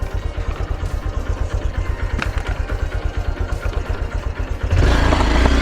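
A motorcycle engine idles with a rapid, even thumping pulse while the bike is lifted up stone stairs near a cave, then jumps into a louder, rougher rev for the last second.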